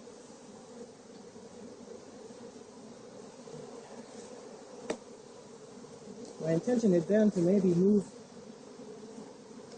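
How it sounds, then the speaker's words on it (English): Honey bees buzz around a backyard hive on a warm day as a steady low hum, with a brief louder burst up close near the end, while someone talks over it. "Wow, these are lots of bees"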